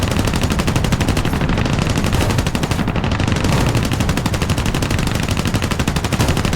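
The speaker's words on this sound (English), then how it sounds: "I think I was shooting above him." Aircraft machine guns in the War Thunder game hammer away at a ground target in one sustained, dense rapid-fire burst, loud and close, with no talk over it.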